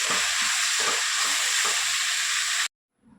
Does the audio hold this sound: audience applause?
no